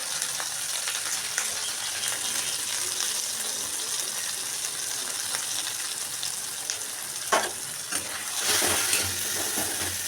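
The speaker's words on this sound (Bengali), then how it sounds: "মশলাটা কষিয়ে নেওয়ার পরে" Whole spices, tomato, ginger-chili paste, cumin, salt and turmeric fry in a pan with a steady, close sizzle, broken by a brief clatter of stirring and a louder hiss toward the end.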